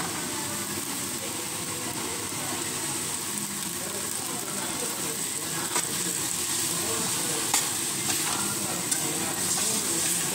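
Double beans and soya chunks fry in masala in a pan, producing a dense, continuous close sizzle with light stirring noises layered over it at an even level.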